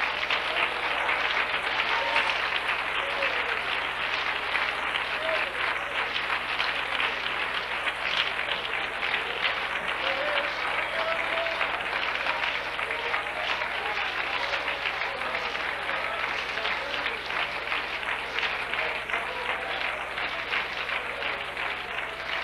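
A church congregation claps hands in long, continuous, loud applause that holds steady without pause, dense and full like a packed room.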